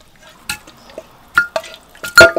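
Lamb ribs tumble into a clay pot in several separate clatters and thuds of meat and bone against the pot, close and fairly loud, spread over about two seconds with quiet gaps between.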